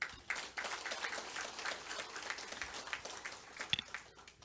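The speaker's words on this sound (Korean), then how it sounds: "큰 박수 부탁드리겠습니다" Dense, continuous audience applause fills a public hearing hall on creating a Northern Gyeonggi special self-governing province in Yangju, a loud sustained wash of many hands with a few sharper claps near the end.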